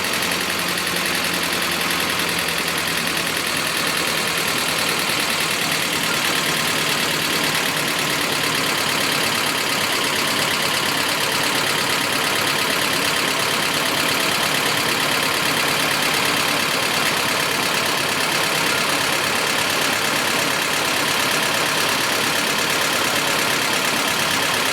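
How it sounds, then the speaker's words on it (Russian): A Toyota Land Cruiser Prado 120 engine idles steadily with an unpleasant diesel-like knock, running continuously at close range with no talk over it. "двигатель работает с очень таким неприятным стуком."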